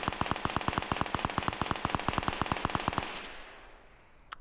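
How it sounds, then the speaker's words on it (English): Rapid heavy gunfire in the Fortnite battle royale video game, a fast even burst of about twenty-five sharp shots over three seconds, then stopping abruptly into quiet ambience. "what is he shooting? Some like heavy shots right there"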